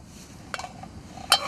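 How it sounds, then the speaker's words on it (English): A frying pan falls off during a night fishing trip, making two brief metallic clinks. The second clink is louder and sharper, and the scene around it is quiet. "Except the frying pan falls off."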